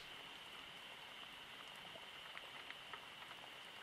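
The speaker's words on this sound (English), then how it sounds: "the sound of the rain on the windows" Steady rain pattering against windows in a storm, a soft continuous hiss with scattered faint droplet ticks, distant and quiet throughout.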